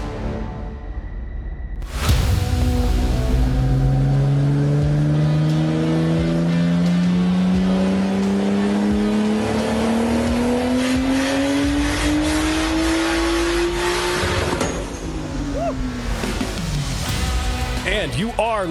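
A car engine revs up in a long rising pull, loud and close with a smooth climbing whine, then drops off sharply and settles into a rougher idle with blips toward the end.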